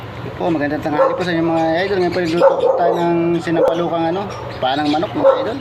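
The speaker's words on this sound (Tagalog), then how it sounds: "Pasensya na po sa tahol ng aso" Dog barking and yipping in the background at a home kitchen while chicken is being cooked, intermittent barks and whimpers layered under someone talking close to the microphone.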